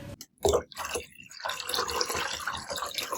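Water, about a litre, poured into a saucepan on a stove for boiling potatoes, close: a brief splash, then a steady trickling, gurgling pour of moderate loudness.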